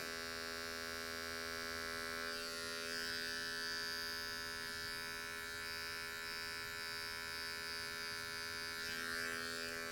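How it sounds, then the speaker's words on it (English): An adjustable electric hair clipper fades hair during an undercut haircut, a steady close mechanical buzz and hum that holds evenly throughout with no voices. "I'm going to take the back corner of the clipper and we're going to fade that right out"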